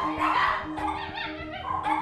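Dogs at a breeder's home in Swansea bark and yip repeatedly in a lively, overlapping chorus, close and fairly loud, with several short yelps and whimpers mixed in and no talking.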